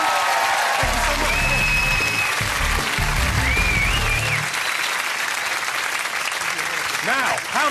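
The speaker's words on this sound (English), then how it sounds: "Round of applause." Loud, sustained studio audience applause at a television comedy quiz show about the year 2006, a dense continuous wash of clapping and crowd noise with a voice talking over it.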